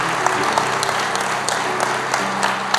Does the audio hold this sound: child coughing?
no